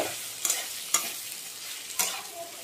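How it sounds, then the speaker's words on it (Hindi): Chopped and ground chickpeas roasting in a hot pan, a soft steady sizzle with a few sharp scraping stirs of a spoon, close and alone without talk. "ये कटा हुआ चना, पिसा हुआ चना, तो इसे भी थोड़ा सा भून लूंगी।"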